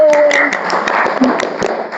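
A group claps in a short burst of broadband, irregular hand claps at a patriotic university gathering, with people's voices mixed in under the clapping.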